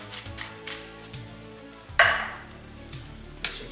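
Potatoes frying in vegetable or canola oil in a pan for a breakfast quesadilla, a low steady sizzle with a few louder bursts and scraping clatters as they are placed and moved.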